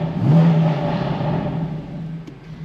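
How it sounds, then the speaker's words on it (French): A BMW M4 Competition F82 with a 450 hp engine and DKG7 gearbox revving, one short rising blip of the exhaust followed by a steady low rumbling idle that fades slightly, close to the microphone. "je vais vous faire un petit peu écouter la sonorité que produit l'échappement"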